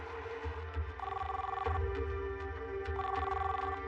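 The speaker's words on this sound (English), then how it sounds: "Tom keeps trying her cell phone." An unanswered call to a cell phone rings back in two electronic bursts, separated by a pause, over a low droning background.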